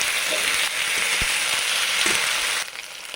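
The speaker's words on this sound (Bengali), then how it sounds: "এবার এটা ভালো করে ভেজে নেব" Fish fries in a pan with spices and tomato, giving off a steady, close sizzle that holds evenly throughout with no voices.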